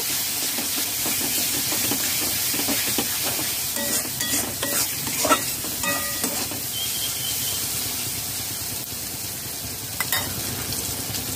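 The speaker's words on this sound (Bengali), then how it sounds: "মশলা দিয়ে ভালো করে নাড়াচাড়া করে নেব।" Spices and tomato being stirred in a hot frying pan, a continuous loud sizzle and hiss with irregular scraping strokes of the spatula, close up and without speech.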